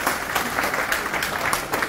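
A crowd at a gathering claps loudly and steadily, dense applause running throughout without pause.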